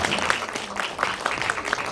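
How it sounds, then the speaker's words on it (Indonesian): Audience clapping at a film event, a moderately loud crowd applause with a slightly uneven, rolling texture of many hands, steady across the whole stretch with no speech on top. "kita berikan tepuk tangan."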